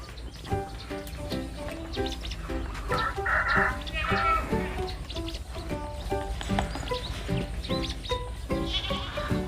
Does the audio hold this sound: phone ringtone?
no